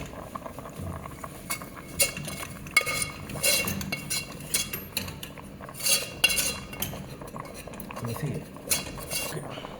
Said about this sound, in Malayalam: ഇളക്കി മിക്സ് ചെയ്തൊന്ന് നോക്കിക്കാം.